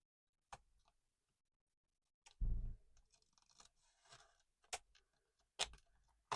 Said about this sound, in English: My scissors, and I'm just going to take the tiniest amount off here